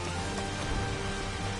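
Raindrops spell cast in the video game Final Fantasy XV: a dense, steady patter of rain-like noise with low rumbling underneath, sustained and fairly loud throughout, with no voices.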